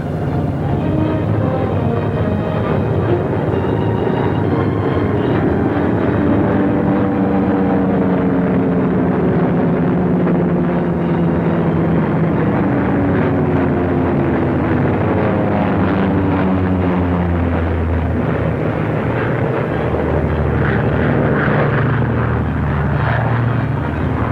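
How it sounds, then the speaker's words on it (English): WWII bomber aircraft returning to an airfield in the Aleutians: a loud, continuous droning roar of propeller engines, its pitch slowly shifting as the planes pass and circle close overhead, with no voices. "Bombers went out, and 6 are coming back."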